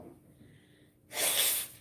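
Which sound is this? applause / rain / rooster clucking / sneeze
sneeze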